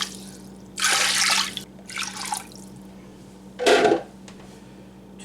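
Chicken broth poured into a crock pot for ham and split pea soup, heard as three separate close splashy pours with short gaps between them.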